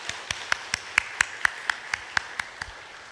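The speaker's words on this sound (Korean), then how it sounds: "함께 격려의 박수 하도록 하겠습니다" A church congregation at a Sunday afternoon service claps together in encouragement for teachers and staff, a dozen crisp claps in an even, steady rhythm.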